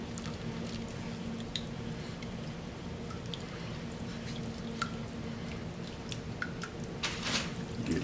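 A heavy cream sauce for roadhouse-style shrimp Florentine is stirred in the pan, giving soft, wet squishing and dripping sounds at a low, steady level, with a faint hum underneath.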